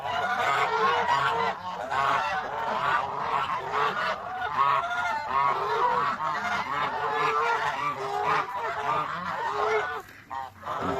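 A flock of geese eating cabbage honks almost continuously, a dense overlapping chorus of loud nasal calls close by, thinning briefly near the end.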